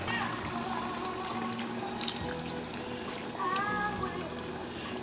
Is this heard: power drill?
no